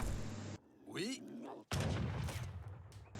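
Heavy cannon fire in a strategy game sounds as a sustained booming blast, then a sharp crack that opens into a long rumbling roar, loud and close with bursts of noise throughout.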